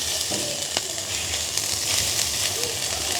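Carrots sizzle and fry in a little oil in a village kitchen at night, a steady bright hiss with small crackles and stirring, close and fairly loud throughout.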